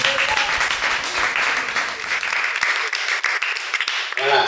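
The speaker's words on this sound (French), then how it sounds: "veuillez vous applaudir vous-même." Applause from an audience of entrepreneurs at an online-sales training session, steady dense clapping for about four seconds with a voice speaking over the start.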